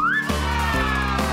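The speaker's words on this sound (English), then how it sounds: "That's a monkey!" Cartoon monkey call for a children's show, a short rising whoop followed by three quick pulsed chattering hoots, loud and alone.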